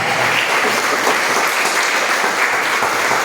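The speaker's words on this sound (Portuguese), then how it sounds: "Agora eu te convido a dar a mais forte salva de palmas ao Senhor Jesus." A church congregation gives a loud, sustained round of applause to Jesus during a sermon, dense and even clapping filling the whole stretch.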